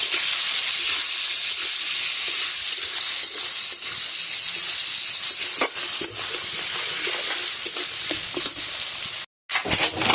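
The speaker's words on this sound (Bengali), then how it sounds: "দিয়ে এটা একটু খুব ভালো করে এখন ভেজে নেব" Chopped onion and crushed garlic fry in hot oil, giving a loud, close, continuous sizzle broken by scattered stirring clicks and one brief dropout near the end, with no voices.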